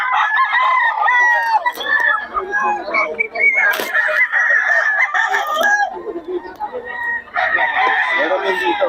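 Fighting cocks crowing at a Bocaue market: loud, close, overlapping crows from several birds, nearly continuous, with clucking and chatter mixed in.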